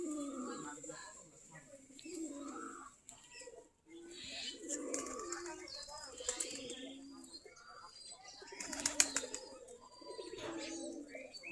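Native Giribaz pigeons feeding at a doorway, with soft cooing and scattered chirps over a steady background, brief wing flaps near the end, and voices murmuring now and then.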